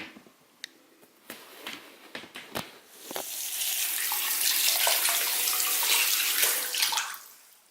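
Tap water runs steadily for several seconds while a makeup sponge is rinsed clean with Eco Tools shampoo, following a few scattered clicks and small handling knocks at the start.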